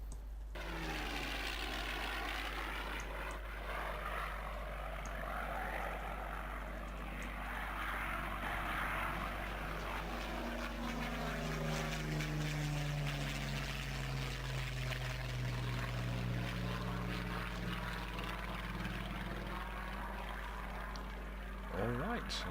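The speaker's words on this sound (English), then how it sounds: "Alright, that's the sound of the Klimov engine there." Klimov engine of a Soviet Yak-1 fighter aircraft from a flight game mod, a steady droning engine roar that holds continuously, with tonal bands slowly sliding downward as the engine note shifts.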